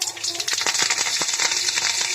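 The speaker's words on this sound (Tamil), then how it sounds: "கருவேப்பிலையும் நல்லா பொரிஞ்சிருச்சு." Curry leaves fry in hot oil, a continuous bright sizzle broken by rapid small crackles and pops close at hand.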